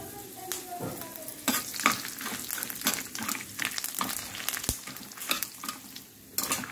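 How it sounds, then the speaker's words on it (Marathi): Curry leaves, chillies and garlic frying in a pan over low heat, with a continuous close sizzle broken by frequent scraping stirs and a sharp clink of the spoon. "याला आपण मस्त फ्राय करून घ्यायचं 2 मिनिट"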